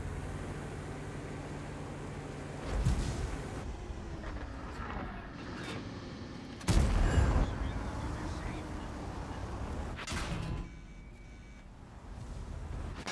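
Tank cannon fire in World of Tanks: a few heavy booming shots with rumbling tails, the loudest mid-clip, over a steady engine drone, while someone talks throughout.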